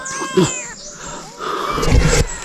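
A close, loud cat yowling in drawn-out, wavering cries, rising into harsh snarling tones near the end.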